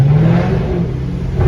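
A Chrysler 300 with a 5.7 HEMI V8, mid mufflers and rear resonators removed, revs loudly up close, a deep steady exhaust drone that swells slightly at the end.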